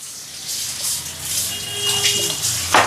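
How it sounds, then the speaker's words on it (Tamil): Coconut oil is poured into a pan for cooking, a soft continuous pouring and sizzling hiss that grows slightly, close up, with a sharper crackle near the end. "தேங்காய் எண்ணெய் தான் நான் ஊற்ற போகிறேன்"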